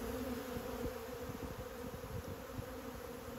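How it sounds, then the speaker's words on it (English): A honeybee swarm buzzes steadily around a hive box, a dense continuous drone of many bees close by with no talking. "there are more and more bees landing in"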